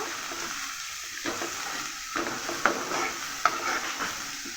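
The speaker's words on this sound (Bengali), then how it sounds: "আদা রসুন দিয়ে দিলাম একসঙ্গে বাটা আছে পেঁয়াজটাকে একটু লাল করে নেব" Onion frying with ginger-garlic paste in a pan, giving a steady, close hiss of sizzling oil with periodic soft scrapes and taps as a spoon stirs, and nobody speaking.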